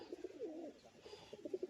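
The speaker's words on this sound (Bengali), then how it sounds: "তো বন্ধুরা একটা দেখুন ম্যাড্রাস পায়রা" A Kaldum Madras pigeon cooing softly and close, a series of low throaty coos in short pulses with a pause midway.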